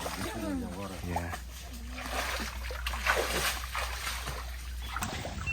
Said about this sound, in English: This is like knee-deep mud and water.